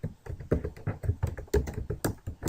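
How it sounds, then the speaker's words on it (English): Typing on a computer keyboard while writing HTML, with quick irregular clusters of close key taps and clacks alone throughout. "I'm going to type in paragraph 2."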